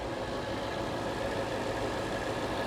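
A 5-liter 32-valve car engine idles slightly unevenly, giving a steady low rumble with a faint shake and a thin whine above it, running continuously and close by with no talk.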